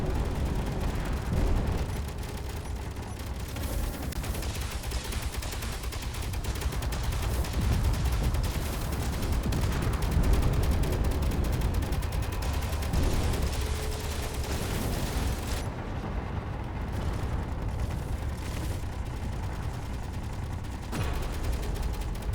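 Sustained turret gunfire in Space Engineers during a weapons test of a Galor cruiser, a dense continuous barrage of rapid shots and impacts layered with rumbling blasts over about twenty seconds.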